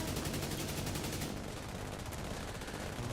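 Rapid automatic AK rifle fire in The Division 2, a dense continuous burst of shots that changes character partway through, heard alone without talk.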